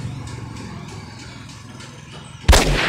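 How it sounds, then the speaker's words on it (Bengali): A sniper rifle shot fired in an offline shooter video game: one sudden loud blast near the end cuts in over a steady low game rumble and keeps ringing to the close. "এই দেখেন বুলেট মারলাম"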